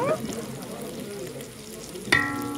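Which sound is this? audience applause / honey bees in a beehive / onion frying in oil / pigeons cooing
onion frying in oil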